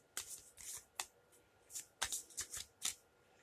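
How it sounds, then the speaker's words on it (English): Playing cards are shuffled in several quick riffling bursts, soft and close, with brief pauses between, in an otherwise quiet room. "And a quick shuffle."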